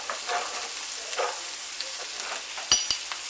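Onion frying in margarine or butter in a hot pan, a soft steady sizzle with crackling spits and a couple of sharper pops near the end, no talking.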